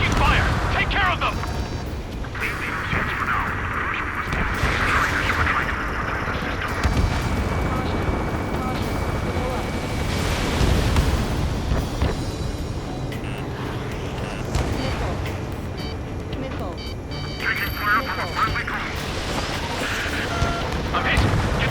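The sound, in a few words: gunfire and explosions in the video game Ace Combat 7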